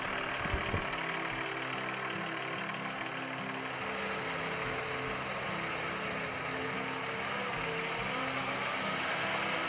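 A Cummins ISX diesel of 450 horsepower idles in an International 9200 tractor truck, a steady low rumble with a faint knocking pulse, heard alone at moderate loudness.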